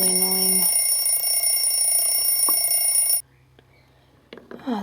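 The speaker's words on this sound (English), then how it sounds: "I'm gonna turn the alarm off." An alarm clock rings loudly and steadily in a home in the morning, then cuts off abruptly after about three seconds, leaving quiet with faint rustling.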